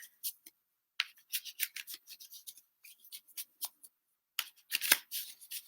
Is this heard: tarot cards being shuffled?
yes